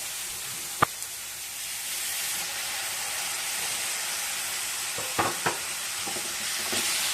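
Tomato paste goes into a sizzling spice masala in a pan, with a steady moderate hiss of frying and a few sharp clinks and scrapes of stirring.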